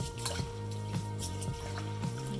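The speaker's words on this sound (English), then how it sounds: "In Japanese rice, you can actually wash quite strongly" Japanese rice is washed by hand in water, giving soft wet swishing and squelching with rhythmic sloshes roughly every half second, close and quiet.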